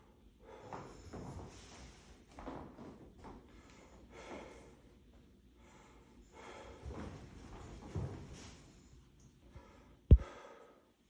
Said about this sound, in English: Just breathe in and out for me.